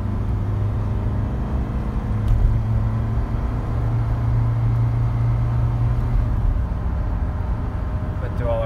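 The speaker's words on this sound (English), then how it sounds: "Now I'm gonna accelerate here, get her up to speed." Engine rumble of a 1988 Dodge Raider accelerating up to speed from inside the cab, a steady low drone with rising tones and a brief shift midway, with some faint talk underneath.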